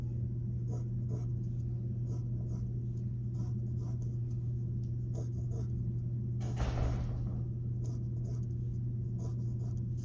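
A pencil scratches steadily across paper while ruling out a 3 by 14 rectangle, short repeated strokes ticking over a constant low hum, with one louder brushy scrape midway.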